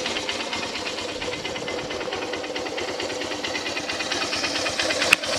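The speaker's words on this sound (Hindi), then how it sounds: "एक बार प्रेस करेंगे तो स्टार्ट हो जाएगा, स्टार्ट हो गया" A Honda 125cc motorcycle engine idling just after electric self-start, a steady, even putter with a fine mechanical rattle running throughout, heard close, with one brief sharp click near the end.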